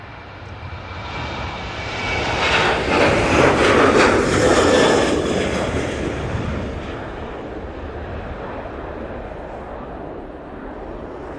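A TUI airliner takes off at Manchester Airport, its engines building to a loud, broad roar that peaks a few seconds in and then slowly fades as the aircraft climbs away, heard from a distance with no voices.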